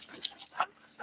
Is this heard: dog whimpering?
yes